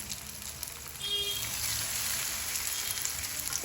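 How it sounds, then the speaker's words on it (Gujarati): Vegetable pockets dipped in paste are shallow frying in oil in a kadai, giving a soft, steady sizzle with crackling that swells after the first second and stays close and continuous. "આપણે સેલો ફ્રાય કરી લઈશું."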